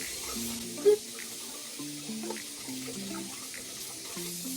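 Tap water running into a sink while freshly filed nails are rinsed of their powder, a steady close wash with a brief splash near the start.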